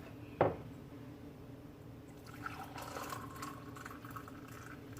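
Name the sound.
pouring tea into teacup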